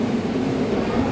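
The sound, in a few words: train arriving at a station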